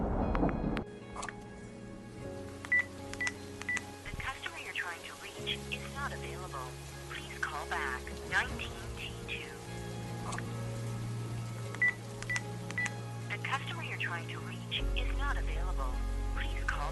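Telephone dialing tones sound faintly over a call that does not go through, short beeps scattered amid low droning music and background sound, with no clear talk.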